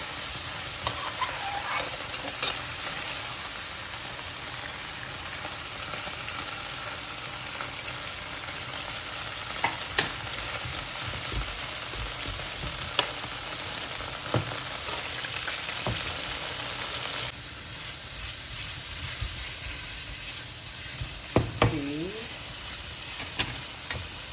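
Beef steak fries in butter in a pan with a steady, close sizzle and hiss, broken by a few sharp crackles and pops, with no talk.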